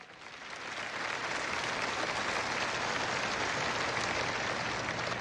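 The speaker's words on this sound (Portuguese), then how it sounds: "Glorifique ao Senhor com palmas." A church congregation claps in praise during a sermon, a steady wash of many hands building in the first second and then holding evenly, fairly distant, with no voice over it.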